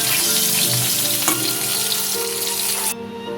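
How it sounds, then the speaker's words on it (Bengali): Potatoes frying in hot oil, salted and turmeric-dusted, give a steady dense sizzle with light stirring scrapes and a sharp clink near the middle, then the crackle drops away abruptly near the end. "আলুগুলো লাল করে ভেজে তুলে রাখছি।"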